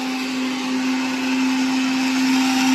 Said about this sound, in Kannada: ಮಿಕ್ಸಿ ಎಲ್ಲ ಯೂಸ್ ಮಾಡ್ತಾ ಇದ್ದಾನೆ ಅವನು